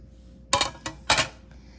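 Gold and white plates and silverware clink together as a Christmas table is set: three or four sharp, close ceramic and metal clinks in quick succession against a quiet room.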